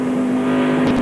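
Mike McLaughlin's Busch Series race car at Nazareth holds a steady droning engine note as it labors off a corner, loud and close, with no one talking.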